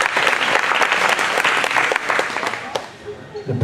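A crowd applauds at a weightlifting competition, the Nova Scotia Open snatch session: close, dense clapping that holds steady, then thins out toward the end.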